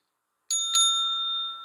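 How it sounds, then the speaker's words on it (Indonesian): A table bell struck twice in quick succession, bright metallic dings that ring out and decay slowly in an otherwise quiet room. "Bel meja boleh nggak?"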